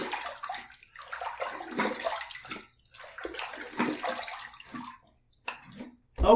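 Safety razor being rinsed under running water, a steady splashing flow with bursts and brief pauses, close and moderately loud, ending in a sharp knock.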